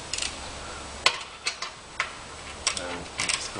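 Small metal bolts being threaded by hand into the transmission pan of a 1967 Chevelle with a TH350 transmission, heard as a handful of sparse, crisp metallic ticks and clicks at close range with quiet gaps between them.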